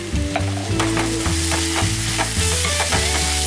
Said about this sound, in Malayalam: ഇട്ടിട്ട് നല്ലപോലെ ഇളക്കുക